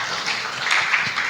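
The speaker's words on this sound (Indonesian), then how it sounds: "Kita berikan tepuk tangan buat Tuhan." A church congregation applauding, a dense, even wash of many hands clapping that carries on steadily and moderately loud, with no clear individual claps standing out.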